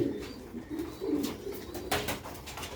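Rooftop birds feeding on scattered grain coo softly and repeatedly, close by, over a low outdoor background hum, with no talking.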